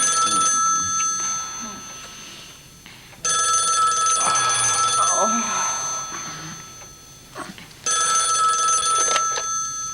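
A ringing telephone bell in an indoor French film scene sounds in three loud, close bursts of metallic trilling with short gaps, and a voice speaks briefly in the pauses.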